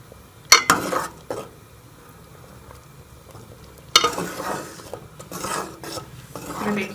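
A spoon stirs beaten egg into a pot of vegetable soup, with a couple of sharp metal clinks and scraping strokes separated by quiet gaps, close and unaccompanied by talk.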